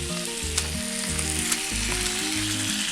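Half a kilo of washed chicken frying with spice powders in oil in a kadai for Kerala kadai chicken, a steady close sizzle with stirring and a few soft clinks, no voices.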